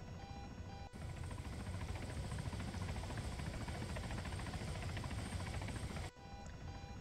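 A CH-67 Huron transport helicopter in the Arma 3 war game drones with a steady, loud rotor-and-engine roar, a continuous rhythmic thrum filling the whole stretch with brief dips at the ends.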